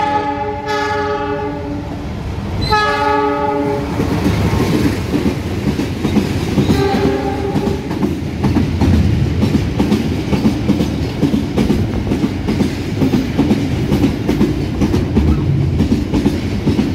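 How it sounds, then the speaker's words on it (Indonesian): A train horn blasts twice near the start, then the Logawa diesel passenger train rolls steadily with rhythmic clickety-clack of wheels on the rails, loud and close. "Logawa mau berangkat bentar lagi."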